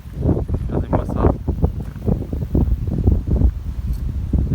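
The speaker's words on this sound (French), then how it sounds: "Vous entendez le vent?" Strong gusts buffet a phone's microphone outdoors near Geneva, producing loud low rumbling bursts in uneven pulses throughout.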